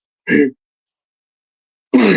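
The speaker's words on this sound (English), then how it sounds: "I have to clear my throat." A man clears his throat twice, a short rough burst, a pause of more than a second, then a second louder, fuller one, close to the microphone with no talk.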